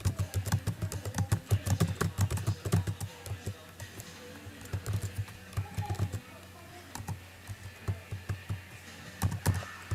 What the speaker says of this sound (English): start typing some numbers.